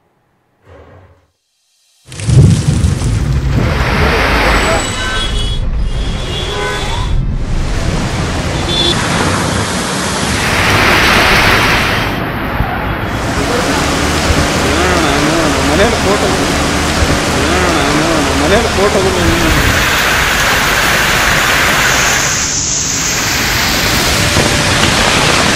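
Heavy rainfall in Bengaluru roars loudly and continuously after a brief quiet start. The sound is a dense, rushing wash of downpour with some swells, and talk seems to run beneath it.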